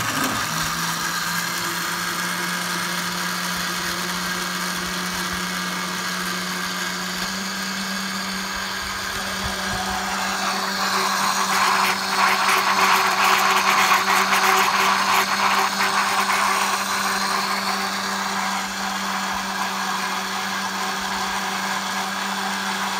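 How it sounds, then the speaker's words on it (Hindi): An electric blender runs steadily for the whole stretch, blending milk and strawberries into a milkshake. The motor whirs with a loud, continuous drone, and its pitch and grind change partway through as the contents churn. "जूसर को ऑन करेंगे"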